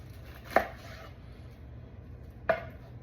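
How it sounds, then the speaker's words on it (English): A knife slices a whole pineapple in half lengthwise, giving two separate sharp chops about two seconds apart as the blade strikes through onto a cutting board, each one crisp and close against near silence. "what I like to do is cut it in half long ways"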